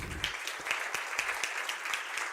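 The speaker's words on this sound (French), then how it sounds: "Merci de l'applaudir" An audience at an HR awards ceremony in Tunisia claps for an audit committee member, individual hand claps audible within a moderate, continuous round of applause.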